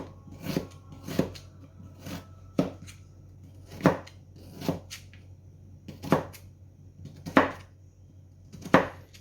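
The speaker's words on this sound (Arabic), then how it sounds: "تفضلي تقطعي فيهم زي كده. تمام اهو. قطع كل البصل مع بعض" A knife chopping onions on a board, about a dozen sharp, evenly spaced strikes over a low background hum, close and clear with no voices.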